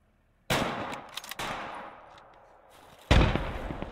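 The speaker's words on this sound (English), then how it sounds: "MGs are firing." Machine guns fire in a World War II battle in the game Call to Arms: Gates of Hell, with three sharp loud bursts separated by fading echoes, the last one heaviest.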